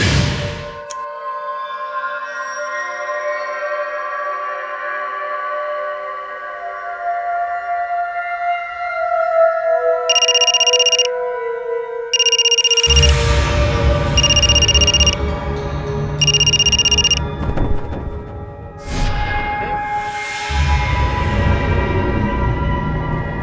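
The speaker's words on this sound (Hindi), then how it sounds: "मैंने उसके सेल से मेरे सेल पर फोन किया ताकि मैं सेफ बना रहूं।" A mobile phone ringing in a crime drama scene, four evenly spaced electronic ring bursts in the middle, clear and moderately loud over a background music score.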